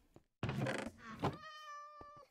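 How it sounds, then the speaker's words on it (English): Cat in modded hardcore Minecraft gives one clear, close meow lasting about a second, followed by a short tonal chime and a faint thunk in otherwise quiet surroundings. "I hear the cat."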